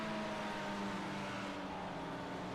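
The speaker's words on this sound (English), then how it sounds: "You can hear the revs dropping there." A steady, droning race car engine at Daytona fills the clip, a continuous mechanical roar with a faint slow easing in pitch as the revs drop, heard at a distance without voices.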